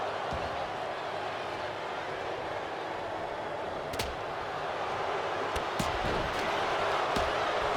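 A sidewalk slam in a WWE 2K25 wrestling match, heard as sharp impact thuds around the four-to-six-second mark over a constant roar of arena crowd noise, with commentary talk running through.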